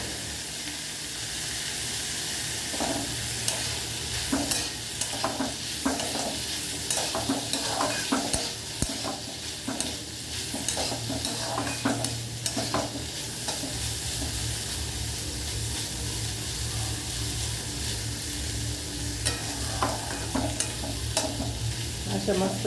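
Vegetables and peanuts stir-fried with a little salt in a pan over low gas, a continuous close sizzle broken by repeated spatula stirring and scraping, with no voices.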